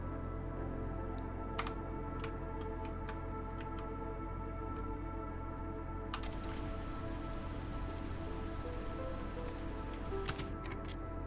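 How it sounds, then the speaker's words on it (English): Steady drizzling rain in the city-building game Against the Storm makes a faint, even patter. Sparse light ticks of droplets run through it, with no voices. "right before the drizzle hits"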